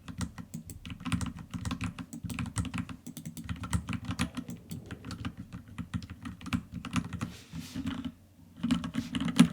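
A computer keyboard is typed on rapidly while coding a 2D multiplayer web game, including presses of the arrow keys: a dense, continuous patter of close key clicks with a brief pause near the end, with no voices.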